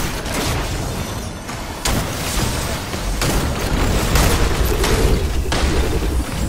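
Gunfire and blasts in the Destiny 2 Dominus Ghaul fight, a dense, loud barrage of booming explosions and rapid shots with sharp bursts breaking through the continuous roar.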